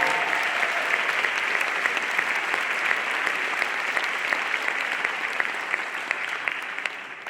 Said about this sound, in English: Let's have a round of applause for all the NYU Wagner students who won that award of any kind